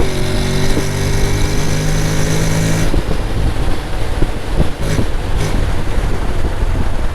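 A Honda Forza 750 scooter with its stock exhaust runs close by, a loud, continuous engine drone with a steady low hum that shifts character partway through, joined by a few brief knocks and clicks.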